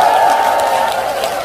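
An audience claps for a singer at a temple gathering, a short, steady burst of dense applause with a faint crowd murmur underneath.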